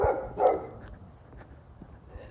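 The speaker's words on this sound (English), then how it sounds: "I've caused the entire neighborhood to start barking" Dogs barking down the line in a residential neighborhood, one fairly clear bark early then fainter scattered barks and yips trailing off at a distance.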